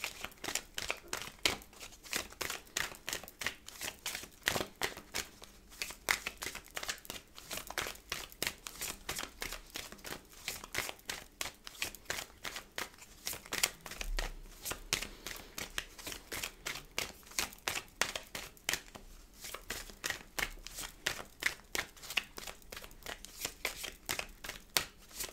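Tarot and oracle cards are handled, shuffled and laid down on a table, a continuous quiet run of soft flicks, slides and taps throughout.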